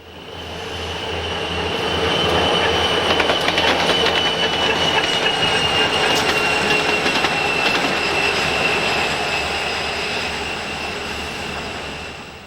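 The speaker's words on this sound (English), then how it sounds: "We see a helper set moving west on track 3." A long Norfolk Southern freight train with helper locomotives rumbles steadily past close by, wheels clacking and squealing on the rails, the sound swelling and then slowly fading.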